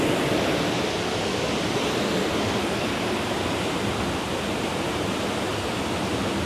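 A waterfall at Monasterio de Piedra pours in a steady, loud, broadband roar that fills the whole stretch without a break or any voices.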